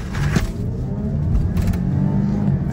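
Land Rover Discovery Si6 with its 345 horsepower engine pulling away from a standstill, a loud, close low rumble and engine drone from inside the cabin, steady over a few seconds.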